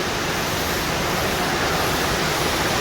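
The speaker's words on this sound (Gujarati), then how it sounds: "વરસાદ ચાલુ થઈ ગયો છે જોરદાર" Torrential rain keeps up a thick, even rushing noise, loud and near, with no one speaking.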